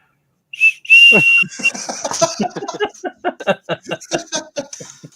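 A novelty whistle is blown in a rapid run of short, loud chirping blasts after a long opening tone, with a few voices reacting nearby.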